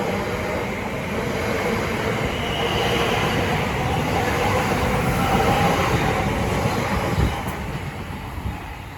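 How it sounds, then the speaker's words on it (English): A TfL Rail train departing Ealing Broadway station on the Great Western Main Line, a loud, sustained rumbling roar of wheels and traction with faint squeals, passing close by and easing slightly near the end. "now departing is the 1215 TfL Rail service"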